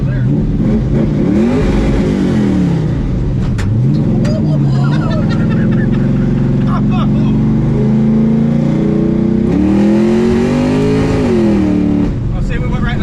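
A car engine revs and climbs through the gears, pitch sweeping upward, dropping at each shift and rising again, loud and close throughout, with people talking over it.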